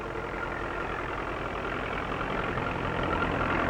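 Tractor engine pulling a four-furrow plow across a field, a steady low-pitched drone with no breaks, fairly loud and close, with no voices over it.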